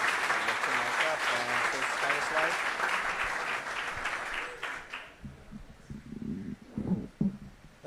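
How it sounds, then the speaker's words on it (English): An audience applauds a speaker being introduced, dense clapping that fades after about five seconds, leaving a few scattered claps and a voice speaking nearby. "Please, sir, please give him a big round of applause."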